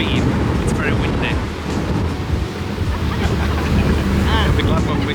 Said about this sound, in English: because we're going at a speed, it's very windy.